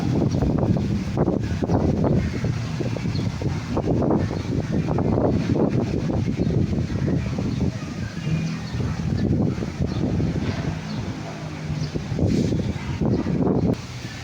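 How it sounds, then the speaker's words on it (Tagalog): Strong typhoon wind roars in loud, continuous gusts through bending bamboo in Angeles City, Pampanga, with broadband rushing and buffeting swelling and easing throughout. "Malakas yung hangin, matutumba na yung kawayan."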